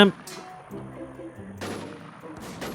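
Gunfire in the video game Warz AfterU: a sharp shot at the start, then further bursts of rapid shots later, over a muffled game background with a faint voice.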